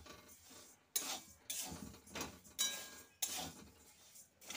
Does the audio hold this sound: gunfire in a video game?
no